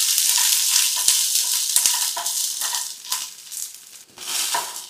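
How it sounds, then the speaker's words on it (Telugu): Green chillies frying in oil in a pan for moringa chutney, a loud dense hiss and crackle with rhythmic stirring scrapes, briefly easing before surging again, no speech. "ఇప్పుడు ఈ పచ్చిమిర్చి వేగేంత వరకు వేయించుకుందాం"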